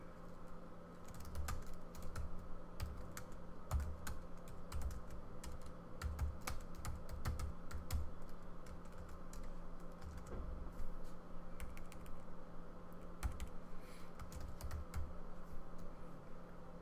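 Code typed on a computer keyboard, a steady stream of close, light key clicks with occasional heavier strokes, over a faint constant background hum, no voice.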